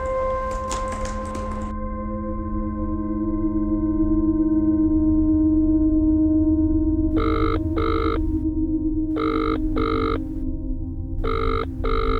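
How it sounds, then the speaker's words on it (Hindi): A telephone rings in three short double bursts near the end, over a steady background of sustained musical tones. "ज्ञान, अगर तुम मेरा फोन नहीं उठा सकते"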